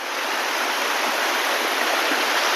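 A small monsoon waterfall in Konkan makes a steady, even rush of splashing water, heard close and unbroken with no voices.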